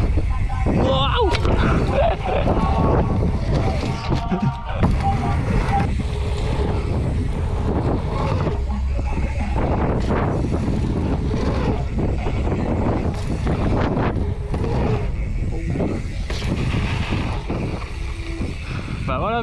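Strong gusty wind buffets the microphone at an outdoor urban bike park in Germany, roaring continuously with surging gusts, while people talk over it.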